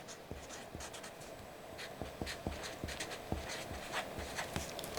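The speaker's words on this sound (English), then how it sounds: "So as you write down gentleness" Pen or marker scratching out a word on paper at a children's craft table, a steady run of short strokes and taps, close and fairly quiet over faint room noise.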